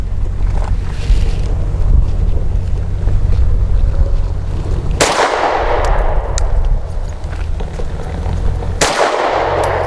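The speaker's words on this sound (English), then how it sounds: "we've got a random breeze that's kicked up here" Gusty wind buffets the microphone at an outdoor shooting range with a steady low rumble. Two sharp pistol shots from a Sig M17 crack through it, one midway and one near the end.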